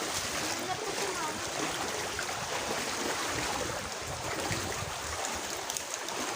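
Floodwater left by Typhoon Carina rushes and splashes through a flooded neighbourhood in a continuous wash, with voices talking over it.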